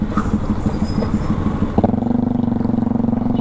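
KTM Duke RC200 motorcycle engine running steadily while being ridden on a road, a continuous close, loud drone with a pulsing, slightly rising tone partway through.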